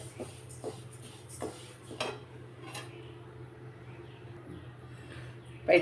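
Dal roasts in a pan over a low flame while a spoon stirs it, sparse soft scraping taps over a faint steady hum, ending in a brief louder clatter.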